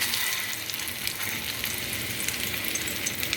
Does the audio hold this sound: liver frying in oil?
yes